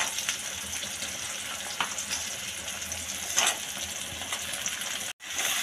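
Onion frying in oil as chopped tomatoes go into the pan for a dhaba-style shev bhaji, a dense close sizzle with brief hissing bursts and a short cut near the end.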